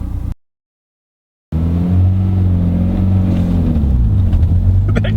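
A 2012 Mitsubishi Evo X GSR engine revs loudly and steadily after a brief dropout, its tone rising and holding during clutch work, with strong low harmonics and no talk over it.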